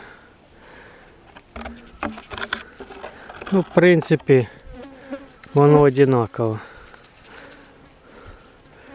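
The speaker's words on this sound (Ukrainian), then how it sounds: "В основному мухи, ну, в принципі, і шершні вистачає, трошки моль попадають" Flies and hornets buzz inside a wasp trap hung in a pear tree, a steady insect drone running under a man's conversational speech throughout.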